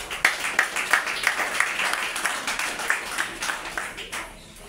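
An audience at a hospital inauguration in Saint-Marc, Haiti, claps in a steady, fairly even rhythm. The applause is moderately loud and fades near the end.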